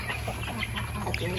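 Scattered clucks and chirps of chickens in a poultry farm in Glan, Sarangani, over a constant low hum, several birds calling at once from nearby.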